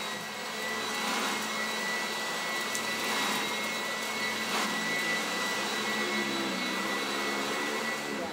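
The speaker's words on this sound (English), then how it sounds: "That works better than our vacuum." An old vacuum cleaner runs steadily, a loud continuous motor whine with broadband airflow hiss that holds constant for the whole stretch, with no voices over it.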